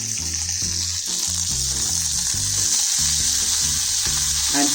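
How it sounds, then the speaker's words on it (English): Paneer cubes and diced green capsicum being stir fried on high flame in a hot pan; loud continuous sizzling with rhythmic tossing and scraping strokes, close up and with no talking. "stir fry this on high flame"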